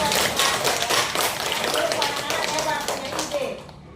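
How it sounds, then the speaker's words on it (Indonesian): A group of fourth-grade elementary school children claps together in a classroom in quick, uneven applause, with voices chattering underneath before it fades. "Luar biasa, tepuk tangan lagi."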